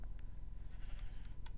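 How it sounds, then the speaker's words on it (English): A sheep in Minecraft bleats in a few short, faint calls over low background rumble, alone without talk. "Got a sheep."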